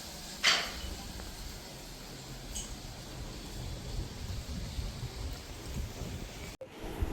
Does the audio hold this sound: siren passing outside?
no